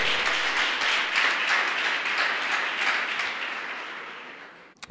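A congregation applauds steadily, dense clapping that holds strong and then gradually thins and fades near the end.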